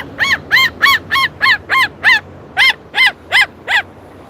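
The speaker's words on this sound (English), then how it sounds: "No bucks, but you got a seagull." A seagull calling out on a patio, a loud, close series of about eleven harsh, nasal squawks spaced at a steady, slightly uneven rhythm, with no talking.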